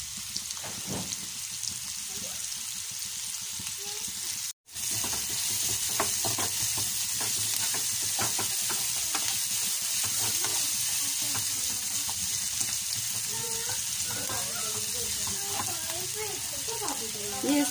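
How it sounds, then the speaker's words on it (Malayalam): Chopped ginger and garlic sauté with onion in a hot pan, sizzling and crackling steadily up close, with stirring scrapes and a brief break partway through. "ഇതുകൂടെ ചേർത്ത് കൊടുത്തിട്ട് നന്നായിട്ടൊന്ന് വഴറ്റിയെടുക്കാം."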